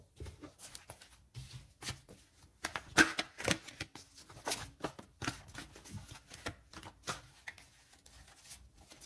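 A deck of fortune-telling cards is shuffled close up, a run of quick papery riffles and soft flicks in irregular bursts, faint and with no talk over it.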